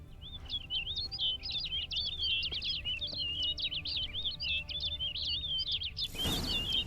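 Bird in The Witcher 3 chirping continuously: a rapid, high, warbling string of tweets over a low ambient hum, cut off near the end by a brief burst of noise.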